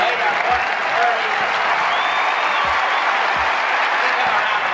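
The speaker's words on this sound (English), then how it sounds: "Give him a round of applause." An audience breaks into sustained applause for honorees at a ceremony, a broad, even roar of many hands clapping that holds steady throughout, with faint low thumps beneath it.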